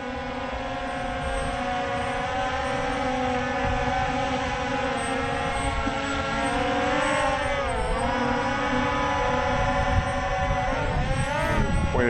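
A WLtoys XK X1 mini quadcopter drone hovering in light wind, a close, steady high-pitched whine of small rotors that bends in pitch as it drifts, no talking.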